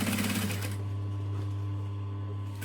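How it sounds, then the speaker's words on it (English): A sewing machine top stitches along the top of a Heidi clutch, giving a close, steady motor hum with a fast rattling stitch that is busier at the start and then settles. "We're going to top stitch just the top."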